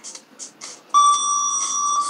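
A workout interval timer gives a bright, sustained electronic bell tone lasting just over a second, preceded by a few short chirps, loud and clear with no talk.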